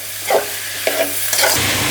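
Chopped onion frying and stirred in a pan of oil while cooking a Telangana dried fish curry, a close steady sizzle with a few scraping stirs of the spoon.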